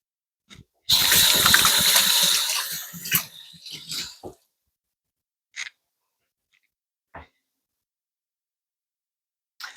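Beaten eggs poured into freeze dryer trays, a short liquid gush and splash lasting about three seconds, followed by a few faint, isolated clicks and knocks in near silence.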